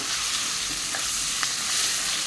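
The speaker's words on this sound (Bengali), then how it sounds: "আলু পেঁয়াজটা একটু ভাজা ভাজা হয়েছে, তারপরে এর মধ্যে রসুন দিয়ে দিয়েছি।" Steady, even sizzle of diced potato, onion and garlic frying in oil in a pan, close and continuous with a few faint stirring clicks.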